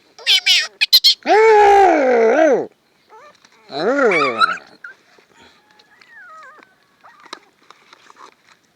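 High-pitched puppy whimpers and whines come in several drawn-out bursts, close by, with a few faint chirps and quieter whines between.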